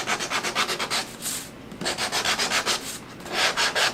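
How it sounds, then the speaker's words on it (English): Rhythmic back-and-forth rasping of sandpaper on a wooden Christmas tiered tray piece, close up, in two bursts of quick strokes separated by a brief pause. "Lots of sanding today."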